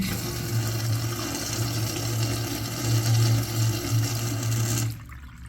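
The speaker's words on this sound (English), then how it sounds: "Let's have a look at a flush." A Sloan SU-7009 urinal flushes with a steady, loud rush of water and a low hum from the valve for about five seconds. The flow then stops abruptly.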